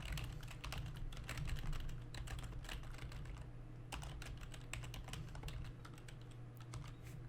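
Steady typing on a computer keyboard, a quick continuous patter of key clicks close to the microphone, quiet and alone over a low constant hum.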